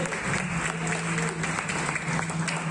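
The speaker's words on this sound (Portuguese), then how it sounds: "Peço que vocês aplaudam a vida desse homem de Deus." Brief burst of steady, dense applause from a church audience, continuous clapping throughout with a low hum underneath.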